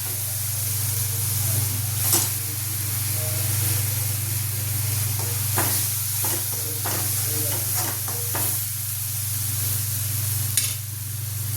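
Vegetables with turmeric and chili powder sauté in a pan for a moong dal and tomato dish, giving a continuous hissing sizzle over a steady low hum, with scattered clicks and scrapes from stirring throughout.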